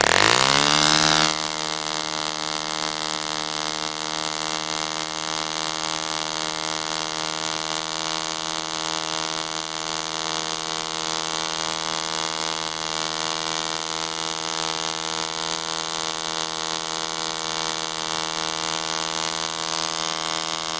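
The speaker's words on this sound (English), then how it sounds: "it's still one of my favourite engines. I really love the ball race drone." Ball-bearing Drone compression-ignition model diesel engine starting and then running at a steady high-pitched buzz, loud and close, holding a constant tone throughout with no speech.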